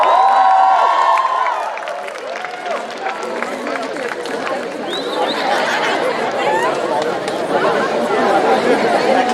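Large school crowd at an alumni meet sports award ceremony cheering and shouting loudly and continuously, a dense mix of voices and chatter that stays loud throughout.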